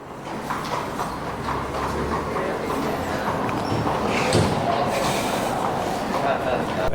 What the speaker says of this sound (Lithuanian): Esam metro